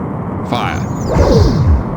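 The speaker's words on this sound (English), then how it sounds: "Our phaser fire missed." Phaser fire in the PC game Star Trek: The Next Generation – A Final Unity, a sweeping electronic whoosh with a descending tonal sweep and rumbling echo, heard up close as a single burst.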